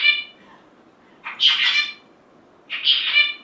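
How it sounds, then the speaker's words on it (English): Three short phrases of a zebra finch song, synthesized from a simple dynamical system model, with bright harmonic buzzy syllables separated by brief gaps and no talking. "this sounds kind of like a zebra finch"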